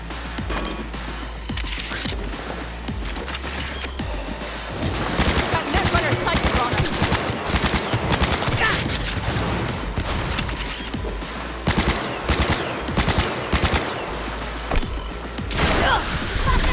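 Rapid bursts of Widowmaker rifle fire in Cyberpunk 2077 ring out close and loud in dense clusters, with brief pauses between volleys and game noise underneath.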